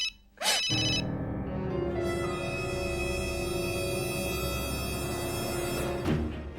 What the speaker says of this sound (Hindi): ये लो भाईजान का फोन आ रहा है